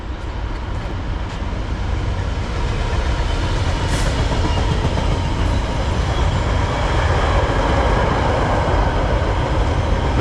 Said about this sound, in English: Nice shot of a freight train there.